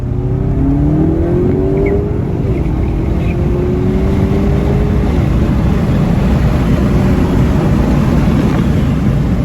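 A Clubsport car with a DSG gearbox accelerates from inside the cabin. The engine note rises in pitch over a few seconds, then settles under a loud, constant rush of road and wind noise.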